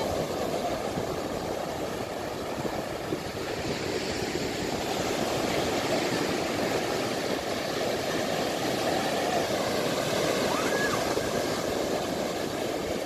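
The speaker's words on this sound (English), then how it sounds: "when the waves come up at you" Sea waves washing up on a beach in Portugal, a steady broadband roar of surf with constant churning water and no pauses throughout.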